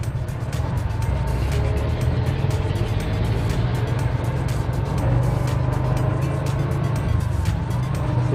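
A car driving on a road, heard from inside as a steady low engine and road rumble with continuous tire noise throughout, no talking.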